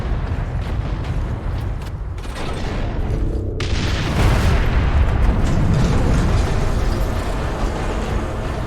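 An experimental Ork cannon in the Space Marine video game fires, a deep, loud blast that swells into a long rumbling roar and fills the low end for several seconds.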